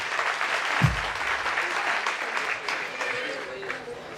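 An audience at a stage event applauds with a continuous, dense clapping that stays steady throughout, fairly loud and spread across the crowd, with a brief low thump near the start.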